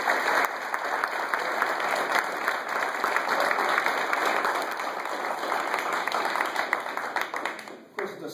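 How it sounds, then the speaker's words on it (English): An audience applauds five high school seniors at a football signing day, steady broadband clapping from a crowd that runs nearly the whole time, loud and even, tapering only at the very end. "So give a round of applause for these five outstanding."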